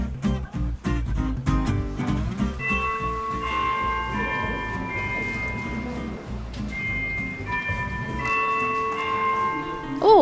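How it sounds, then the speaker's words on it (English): A university class bell rings with sustained tonal chimes over a noisy Korean classroom full of chatter and movement, repeating in a second burst. "the classes start and end with a bell sound here"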